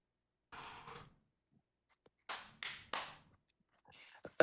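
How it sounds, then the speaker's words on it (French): A few sharp, separate hand claps close by in a quiet room, arriving in short bursts with silent gaps between them, with soft breathy sounds near the end. "évite d'applaudir trop fort"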